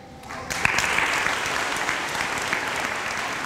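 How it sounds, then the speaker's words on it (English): Applause from an audience at a White Oak Middle School 8th grade recognition ceremony, a steady wash of many hands clapping that swells after a brief quiet start and holds evenly throughout. "Huge round of applause for Manar and Malachi."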